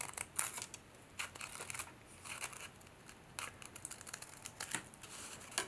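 Scissors snip around crepe paper lily petals in a run of quiet, close, irregular cuts with faint paper rustling between them.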